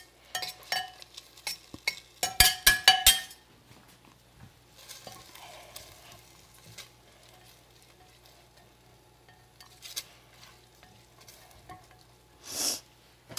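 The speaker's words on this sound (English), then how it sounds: "We're gonna add just a little bit more oil. And we are gonna start with the onions. So go ahead and drop those in there." Onions dropped into hot oil in a skillet for chicken cacciatore, with a burst of clattering stirring and clinks near the start, then a low steady sizzle broken by scattered scrapes and one short hiss near the end, with no talking.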